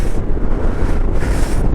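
A loud, unbroken rush of wind batters the microphone high on snowy Sela Pass at 13,700 ft in Arunachal Pradesh, a brief steady roar with no voices.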